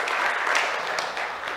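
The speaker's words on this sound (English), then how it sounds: "Give the man a round of applause." A short burst of dense, steady audience applause in a hall during a tech conference talk on AMP, loud and full without pause.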